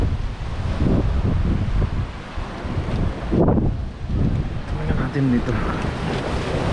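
Rough surf breaks on a rocky shore near Kaybiang Tunnel in Batangas, with a continuous roar of waves and heavy wind buffeting the microphone. A person talks briefly over the noise.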